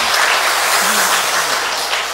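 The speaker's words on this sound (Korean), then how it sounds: "예, 박수로 환영합니다." A church congregation in Korea claps steadily for a couple of seconds to welcome a new student during a Sunday worship service, giving a dense, even patter of many hands in a large room.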